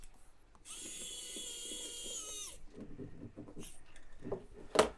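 A J screw with a washer is driven into a Fanhome Iron Spider model back leg, giving a whining power-driver buzz for about two seconds, then small scattered clicks and taps of parts being handled.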